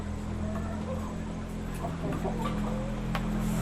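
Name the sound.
laying hens clucking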